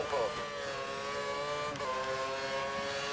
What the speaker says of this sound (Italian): Massimo i giri del motore per un po'.